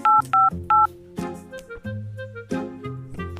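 Electronic telephone keypad tones beep in a quick series of short dialing pulses on a phone, with a steady tone layered underneath throughout.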